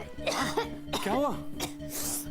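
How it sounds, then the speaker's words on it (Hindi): A person coughs in a domestic scene in a Hindi TV drama: several harsh, close coughs and throat-clearing sounds, with voices and a low background hum running throughout. "इतनी खांसी कैसे लगी आपको?"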